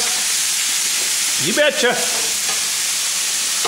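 Garlic and green onion fry in a hot pan with a loud, steady sizzle and hiss throughout, and a brief stirring scrape in the middle while someone speaks a few words.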